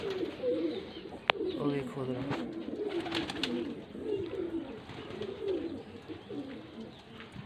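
Pigeons kept for sale in Faisalabad coo continuously in overlapping low, rolling calls, close by, while someone talks over them.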